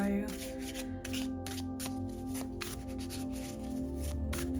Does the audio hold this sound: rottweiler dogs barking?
no